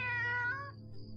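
Cat in the video game Nine Witches: Family Disruption, a single short, clear meow that bends downward in pitch and fades out, close and alone.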